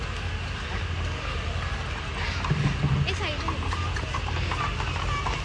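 Horse hooves clip-clopping on a path at the Matheran hill station, steady overlapping hoofbeats passing close by amid outdoor ambience and chatter.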